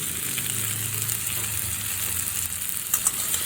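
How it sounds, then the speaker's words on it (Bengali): Raw mango and raw pumpkin chutney fries in a pan over medium heat, giving off a dense, even sizzle up close, with a few faint stirring clicks near the end and no voices. "আমি একটু কষিয়ে নিয়েছি বা ভাজা ভাজা করে নিয়েছি"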